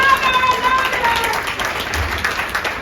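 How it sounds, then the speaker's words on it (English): Audience applause at a keynote address during a conference, a steady wash of clapping from many hands that gradually thins out, with voices mixed into it. "give them a round of applause"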